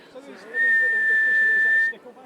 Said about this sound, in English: and that was my whistle